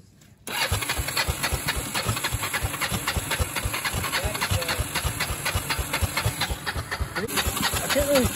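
An old, worn ATV engine starts after a brief quiet and settles into a fast, uneven putter with a rough pulsing beat, close and fairly loud, while faint voices occasionally sound in the background.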